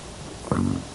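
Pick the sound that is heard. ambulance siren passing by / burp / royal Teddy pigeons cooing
burp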